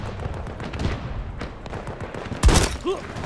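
Gunfire in a video game: one loud, sharp shot bursts out near the end over busy in-game background noise, with a fainter echo-like sound just after.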